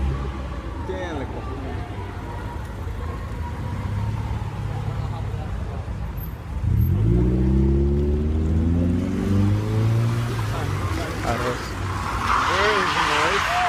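Car drifting and spinning out at a San Diego car meet, engine revving up sharply midway with rising harmonic sweeps over a busy crowd, people talking throughout, the motor loud and fairly close.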